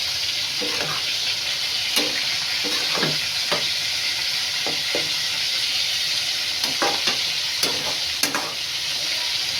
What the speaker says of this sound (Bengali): এই যে মাছটা আমি ছাড়ে দিই। একটু রসুন বাটা দিলাম সাথে, তারপরে কাঁচা লঙ্কা দিয়ে একদম দমে দিয়ে দিই।